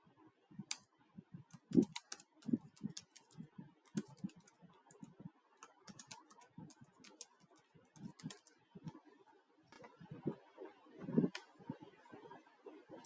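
A password typed on a computer keyboard during SQL Server setup, with soft, irregular key clicks close up and quiet, and occasional louder taps.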